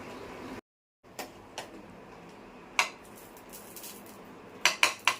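A pot of five-lentil dal tadka is set down in a home kitchen, giving a string of close metallic clinks and taps, sharpest in a quick cluster near the end, with no speech.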